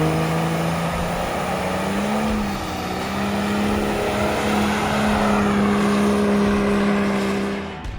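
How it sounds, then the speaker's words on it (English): Diesel truck doing a burnout, a loud sustained engine roar with a steady droning tone that dips briefly and then holds high, continuous and close throughout. "If you know me, you know I like doing burnouts."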